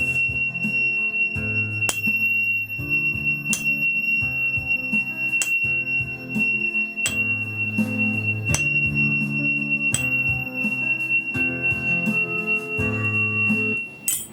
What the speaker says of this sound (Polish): F4, dźwięk tonacji F.